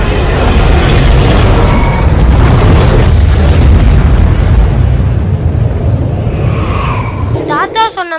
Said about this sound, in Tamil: தாத்தா சொன்ன மாதிரி வெடிகுண்டா இருக்குமோ?